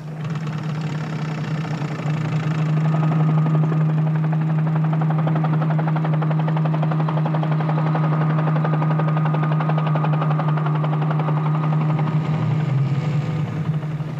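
A helicopter drones steadily overhead during aerial reconnaissance along a Florida river region, its low rotor hum and engine noise constant and fairly loud for the whole stretch with no voices.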